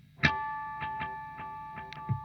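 Electric guitar played through a Starlight Echo Station stereo delay pedal gives plucked notes every half second or so, each leaving sustained shimmering echoes that build into a continuous ambient drone, with no voices.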